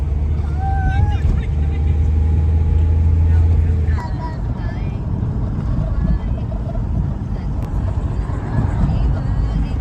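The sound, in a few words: car climbing steep mountain road in first gear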